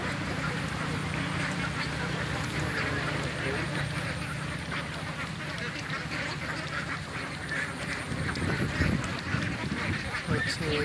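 Many ducks quack continuously across a duck farm, a dense, busy chorus of calls close by, with some human voices mixed in and occasional bumps and movement sounds.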